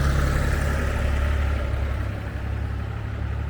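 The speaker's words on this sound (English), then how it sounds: "Waiting for the tractor to go by." A tractor engine rumbles steadily through a rural lane in Lahardane, Ireland, a continuous low drone that holds fairly level and eases slightly midway, with no talk over it.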